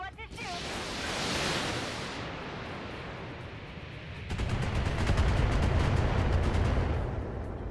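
Explosions and gunfire in the mech combat game BattleTech, a long rumbling blast followed by a second heavy roar with rapid crackling bursts, loud and continuous.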